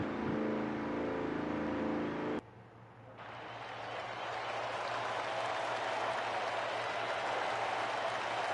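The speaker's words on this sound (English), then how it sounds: "Trying to get that car refired." A drag racing car being refired at a Las Vegas strip, with a loud broadband engine roar that cuts out briefly, then builds again into a sustained, steady roar.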